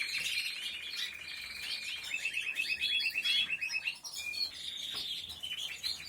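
Pet birds in a breeding setup chirp and trill busily, with rapid warbling phrases and sharp calls close by and fairly quiet, continuous throughout with no voices.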